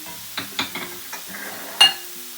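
Garlic and jalapeno hit a pan of golden onion, giving a soft sizzle broken by several short scraping and knocking strokes of a wooden spoon, with one louder clack near the end.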